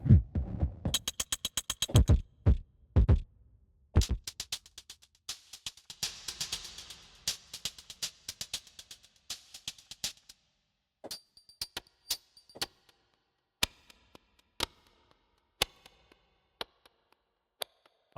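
A distorted rhythmic loop from the Horizon Kontakt sample instrument plays as dense clicking ticks that thin out into sparse, sharp, irregular ticks resembling a clock running backward, with no talk.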